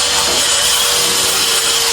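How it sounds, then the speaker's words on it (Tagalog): Steady abrasive scratching of sandpaper rubbed back and forth over a hard skim-coated wall, close up and continuous with no pauses. "Lihain na lang po ito para mawala yung mga gaspang-gaspang."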